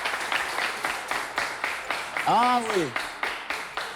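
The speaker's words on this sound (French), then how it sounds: "Applaudissements nourris pour le roi." Audience applauding for the king at a game-show round: rhythmic, distinct clapping in regular beats, with a brief voiced exclamation in the middle.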